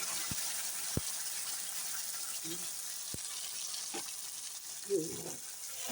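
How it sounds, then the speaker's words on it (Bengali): Spice paste hits a pan of hot oil for a potato curry, giving a steady broad frying hiss throughout with a few soft scraping knocks and a brief louder sputter near the end. "এই দেখো এখানে আমি এখন এখানে দিয়ে দিচ্ছি মশলাটা"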